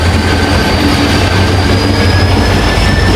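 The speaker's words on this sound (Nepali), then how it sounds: "त्यो चाहिँ सामान बोक्ने ट्रेन हो" A goods-carrying freight train rumbles past close by, a steady, loud low roar of rail wagons with faint wheel squeal throughout, no voices.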